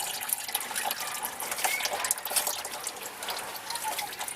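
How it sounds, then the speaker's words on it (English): Engine oil from a 2009 Chevrolet Tahoe Hybrid drains out in a thin, steady trickle outdoors on a driveway, a soft liquid patter that runs throughout without pause. "we're going to let it drain out a little bit and then we'll take it off"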